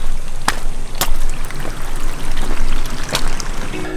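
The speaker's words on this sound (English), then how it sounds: "Creek walk." A creek flows on a Grand Canyon trail, a steady babbling trickle of water close by with a few sharp splashes or clicks, and no talking.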